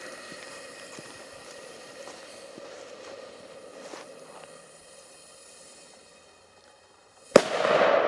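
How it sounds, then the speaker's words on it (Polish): Quiet crackling pops of Tiger Bomb party firecrackers scatter through the background, then a single sharp bang bursts near the end, followed by a hissing spray. "petardy typowo na imprezę"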